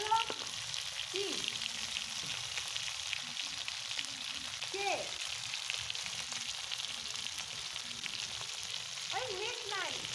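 Hilsa fish frying in a pan gives a steady, soft sizzling hiss throughout. A faint voice is briefly heard in the background.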